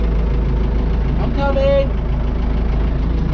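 A vintage tractor engine idles steadily at low revs during hay baling and loading, a constant low rumble that stays close and continuous beneath a brief spoken phrase.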